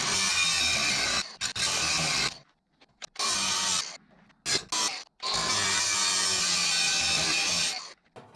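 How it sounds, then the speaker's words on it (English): A power tool cuts slots into a metal piece clamped in a vise, loud harsh grinding in several short bursts broken by brief silences, then one long sustained cut near the end. "get over to the vise and cut some slots in here"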